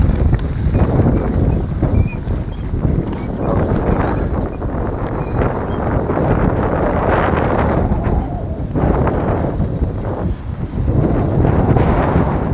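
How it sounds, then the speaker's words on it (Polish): Strong headwind buffets the microphone of a cyclist riding on a bike trip to France, a continuous loud low roar with gusting surges throughout. "Nadal wieje w twarz i jest niezaprzyjemnie jechać z tym wiatrem w twarz."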